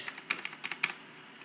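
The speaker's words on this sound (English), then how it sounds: "Gotta love those cherry brown switches." Quick, light keystrokes on a compact keyboard with Cherry brown switches, a short burst of about a dozen crisp clicks at close range, fairly soft and uneven in rhythm.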